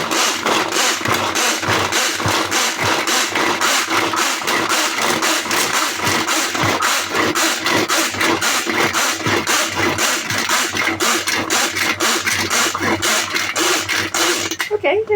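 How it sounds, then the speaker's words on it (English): An electric grinder grinds garlic with a loud, pulsing motor drone that throbs in a rapid, even rhythm for the whole stretch, with a voice speaking over it. "Okay, let's grind it."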